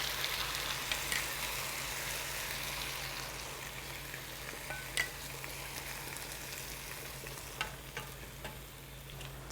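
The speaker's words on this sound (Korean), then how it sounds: "자, 우선 양념장 부어 볼게요." Seasoning sauce poured into a pot of braising chicken and dried pollack over high heat, giving a steady close hiss and sizzle with occasional small pops and bubbling throughout.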